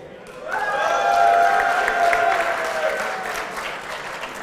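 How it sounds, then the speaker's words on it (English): An esports grand finals crowd bursts into loud applause and cheering that swells quickly and then slowly fades, with a few whistles in the mix. "give him a cheer right now"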